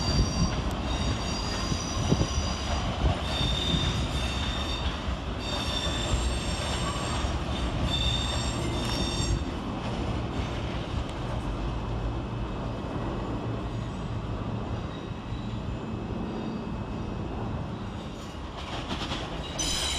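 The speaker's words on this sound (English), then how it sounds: "One in, one out now, with the departure of 455860 and 455914 and the arrival of 450013 and 450105" Trains come and go at London Waterloo station, with a steady rumble of rolling stock and long high-pitched squeals from the wheels on the rails running throughout, loud and close.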